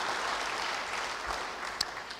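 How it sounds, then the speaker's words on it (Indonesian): Church congregation applauding during a sermon, a steady, fairly faint wash of clapping that lasts the whole short moment. "Yang percaya beri tepuk tangan bagi dia."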